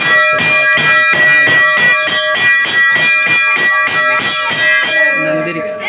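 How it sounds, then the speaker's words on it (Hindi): A Hindu temple bell is struck repeatedly in a fast, steady rhythm, ringing loud and close with a bright metallic tone, then stops. "देखिए भाई रिया बजाने गई है घंटी"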